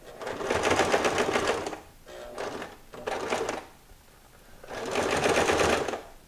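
A sewing machine stitches a medical face mask in three loud, close bursts of rapid rhythmic whirring, separated by short pauses.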